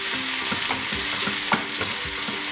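Coarsely crushed garlic, three tablespoons of it, fries over a low flame in oil with a strong continuous sizzle, stirred in regular scraping strokes about twice a second.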